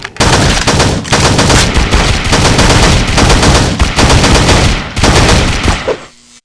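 Relentless, very loud gunfire from the top-down shooter SAS: Zombie Assault 4, with dense machine-gun bursts blending into a continuous roar across the whole stretch, without speech.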